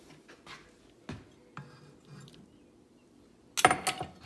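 Rice stirred into cooked pinto beans in an Instant Pot: a few soft scrapes and taps, then a brief, louder clatter of a spoon against the pot near the end, close up with no talking.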